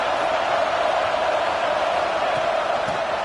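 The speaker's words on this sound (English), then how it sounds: "It's early, but this crowd is fired up. Listen to this noise here." A stadium crowd roars steadily in a college football video game, a dense, loud, unbroken wall of cheering noise with no pauses, as though an Ole Miss home crowd is fired up early in the game.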